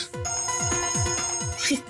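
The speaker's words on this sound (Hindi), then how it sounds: "आप तो मोबाइल की रिंगटोन निकाल रहे हैं।" A mobile phone ringtone plays a rapid series of repeating falling electronic tones with a bright harmonic buzz, loud and close, ending in a brief higher flourish.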